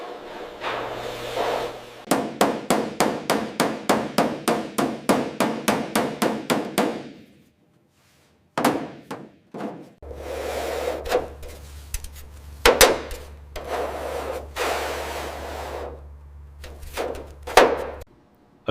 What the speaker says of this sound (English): A body panel is meticulously shaped on an English wheel, shaping metal by hand.